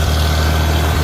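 A 1968 Farmall 756 tractor's gasoline engine runs close and loud with a steady low rumbling idle, alone and without talk.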